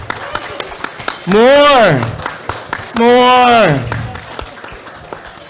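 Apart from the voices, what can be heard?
audience applause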